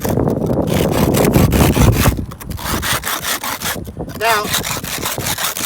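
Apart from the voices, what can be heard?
can scratched against a surface to open it without a can opener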